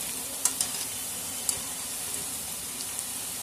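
Tapioca bonda frying in hot oil in a village kitchen, a steady soft sizzle with a few sharp pops and crackles near the start.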